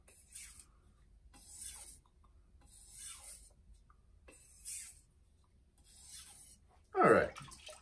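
A Japanese knife is drawn across a whetstone to refine its wide edge bevel, making soft, evenly spaced scraping strokes about a second apart, with a louder thump near the end.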